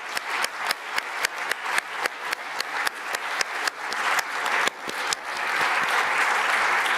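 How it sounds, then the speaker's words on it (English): Applause from a conference audience at the Munich Security Conference, starting as scattered claps that build into steady, fairly loud clapping from many people. "Let's offer a round of applause to the Chancellor."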